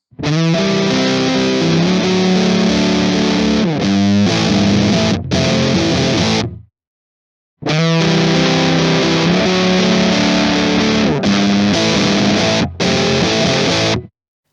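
Heavily fuzzed electric guitar through an Earth Quaker Devices Hoof fuzz pedal, playing thick sustained chords, loud and saturated with open highs, with a short silent break midway before the riff repeats.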